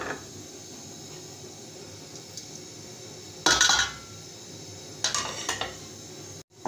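Besan batter mixed with chopped vegetables in a bowl, a spoon knocking and scraping against the bowl with several sharp clinks between softer steady stirring, fairly close and with no talking.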